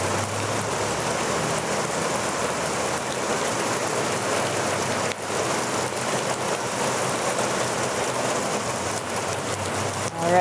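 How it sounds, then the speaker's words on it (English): Steady rain falls in an outdoor park setting, a dense, even patter that holds fairly loud and constant throughout, with a slight swell toward the end. "Enjoy the sound of the rain as it picks up a little bit."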